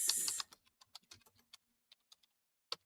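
Quick, light keystrokes on a computer keyboard tap out in an irregular run of close, crisp clicks, with a brief rustle at the start and a louder final tap.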